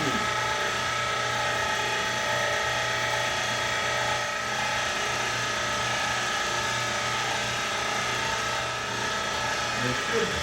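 A full meat mixer churns a 50-pound batch of chorizo with fat, salt and seasoning, a steady mechanical motor whir and hum with faint ratcheting, continuous and moderately loud, with no voices.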